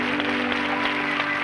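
A TV studio audience applauds in a brief, steady burst of clapping, with a faint sustained musical tone underneath.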